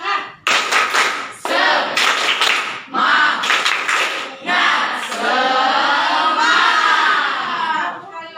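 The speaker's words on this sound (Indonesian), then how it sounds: "Tepuk semangat." Classroom group doing the 'tepuk semangat' rhythmic clap, a crowd of children clapping in quick patterned bursts with loud shouts and chanting voices, several energetic rounds close to the listener.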